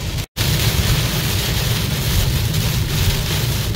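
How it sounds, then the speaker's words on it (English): Rain drums on a truck in a steady, loud wash of drops after a brief dropout at the very start, continuing evenly with no talk. "Yep, it's raining."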